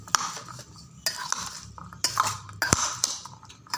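Sprouted bhel being stirred with salt in a bowl, a spoon giving several irregular clinks and scrapes against the dish at close range, with no talk.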